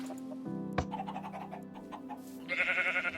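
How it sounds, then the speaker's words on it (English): Several short bleating sheep cries from Minecraft, overlapping a steady electronic hum, followed by a brighter burst of game sound effects at the end. "So let me breed these sheep real quick."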